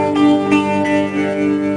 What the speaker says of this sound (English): Yeah, this is tremolo.